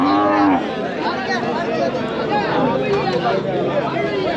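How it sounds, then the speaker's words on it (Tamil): Cattle moo at a livestock market in Kundarapalli, with a loud low call near the start amid crowd chatter and a person talking close by. "அந்த பக்கம் நிறைய மாடுங்க இருக்குது"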